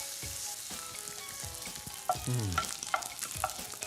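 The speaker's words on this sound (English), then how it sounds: "frying off the mince for colour is so important" Minced meat fries hard in a hot pan, a steady close sizzle broken by sharp scraping and stirring knocks from a spoon against the metal, with no voices.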